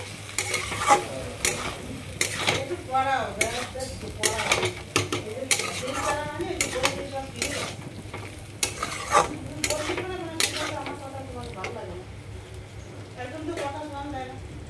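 Potato, paneer and peas masala being stir-fried in a pan, with steady sizzling and repeated scraping strokes of a spatula against the pan, close and fairly loud, with talk over it.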